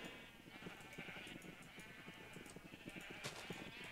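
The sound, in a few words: sheep bleating in the video game Minecraft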